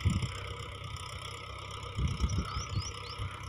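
A Mahindra 475 XP Plus tractor rigged with a soybean sowing machine idles in a farm field with a steady low engine chug, swelling a little in a few brief surges.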